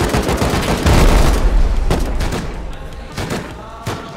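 Gunfire in the survival video game Rust on a snowy map: loud, repeated shots in quick irregular bursts, heavy and close at first, then sparser cracks that thin out toward the end.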